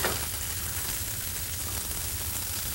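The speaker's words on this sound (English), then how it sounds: "Now we can go ahead and add our asparagus. Adding our asparagus. All right. Okay. Ooh. Let it sizzle up there." Asparagus sizzles steadily in a hot pan while sesame tuna cooks, a constant close frying hiss with low crackle underneath, no voices.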